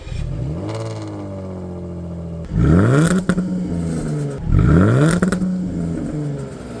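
A Jaguar F-Type sports car engine revs hard through its open exhaust twice, each blip rising sharply then settling back to a rumbling idle, loud and close.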